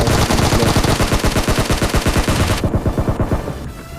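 Rapid automatic gunfire in the shooting game BGMI fires in a loud, steady rhythmic burst, close and sustained for several seconds before the firing eases slightly toward the end.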